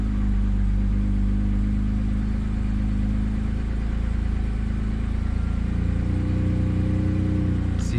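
A BMW N52 inline-six engine with a possible vacuum leak runs steadily at idle, its low hum rising and falling slightly in speed, heard close and continuous with no talking.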